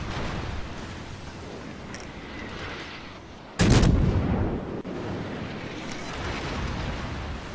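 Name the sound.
warship gunfire in video game World of Warships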